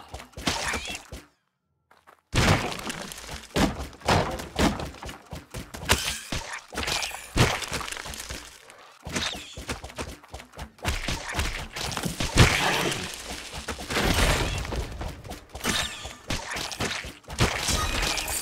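Food being shot and smashed in the Gauntlet video game, heard as a busy run of sharp crashes, thuds and impacts with short pauses between bursts, no talk.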